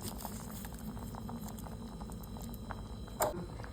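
Angamaly mango curry gently simmering in a pot after the first extract of coconut milk and curry leaves go in, giving soft, faint, continuous bubbling and light patter with no voices.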